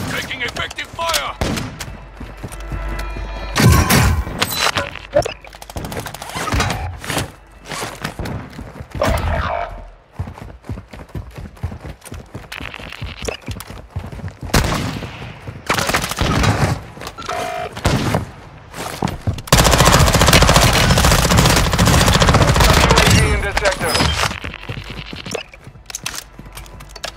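Gunfire from Call of Duty Warzone 2.0 in a Plunder quads match: loud, dense bursts and sustained volleys of rapid shots, some long automatic strings, with quieter gaps between them.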